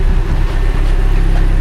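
Exhaust from a running car engine pulses loudly and close, a deep, rhythmic low throb with a steady rumble and no talking.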